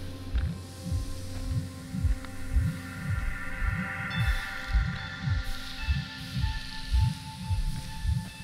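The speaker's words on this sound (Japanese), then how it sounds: "心臓の音みたいな。" A steady, heartbeat-like throbbing in the video game Starsand, low rhythmic pulses repeating roughly every half second beneath a faint ambient hum, with no talking.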